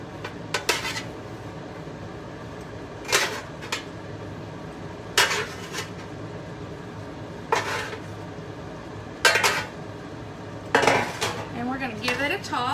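Metal utensil scraping and clanking against a skillet while asparagus is tossed with garlic butter shrimp, several distinct bursts of clatter spaced every couple of seconds over a quiet background.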